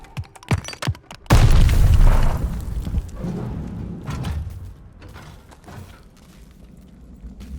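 A grenade detonates in a Call of Duty Vanguard cutscene: a few faint clicks and thuds, then a sudden, loud, close blast that rolls into a long rumbling decay of debris.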